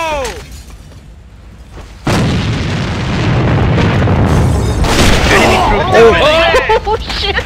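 In the shooter Alliance of Valiant Arms, a grenade detonates with a sudden loud boom after a quiet lead-in, followed by rumbling debris and scattered gunfire, with ringing in-game effects near the end.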